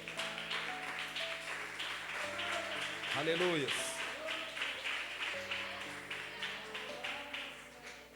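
Congregation applauding in a church, a soft continuous patter of clapping under sustained keyboard chords, with a voice calling out briefly.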